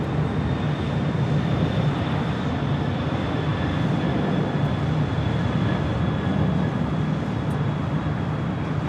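Jet airliner engines roar at Los Angeles International Airport, a broad, steady rumble with a faint high whine running throughout, heavy and continuous without any speech.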